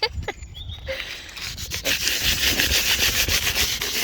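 Scuffing up the surface of a van before painting gives rapid, rhythmic rubbing and scraping strokes, close and steady after a few sparse knocks at the start.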